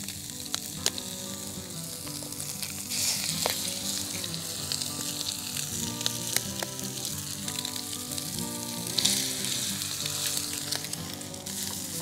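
Eggs frying in a pan with bacon, cottage and camp style, giving a loud continuous sizzle and crackle close by, with scattered pops and a few light scrapes of a utensil.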